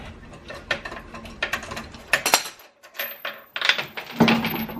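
Quick clicking ratchet wrench working the wheel lug nuts on a Saab 9-3 fitted with Turbo X wheels, bursts of rapid pawl clicks with short pauses between strokes, close and alone.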